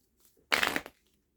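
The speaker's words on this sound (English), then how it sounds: "Let's give it a quick shuffle." A quick shuffle of a tarot deck, one brief rustling burst of cards lasting under half a second, close and fairly soft, with quiet on either side.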